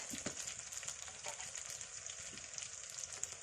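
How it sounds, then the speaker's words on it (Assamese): Steady crackling sizzle of potatoes frying in hot oil in a kadai, with small pops and bubbling throughout, fairly quiet and close. "কেৰাহী এখন গৰম কৰি তেল দি এতিয়া আলুখিনি ফ্ৰাই কৰি আছে"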